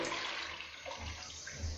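A school toilet flushes with a faint, distant watery whoosh and gurgle, quiet and brief, with no talking over it.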